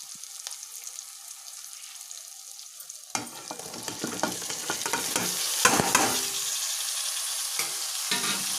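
Cut pieces are stirred into frying tomato in a pan, starting as a soft steady sizzle that turns into louder scraping and crackling from about three seconds on. The sound is close, with no talking.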